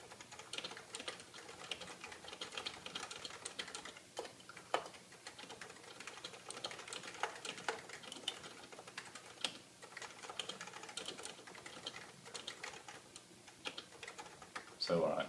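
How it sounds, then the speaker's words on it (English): Soft, muted typing on a Realforce 87U Silent mechanical keyboard in a steady rapid patter, close by and fairly quiet, continuing without pause. "I'll just do a little bit of typing so you can get an idea of what they sound like"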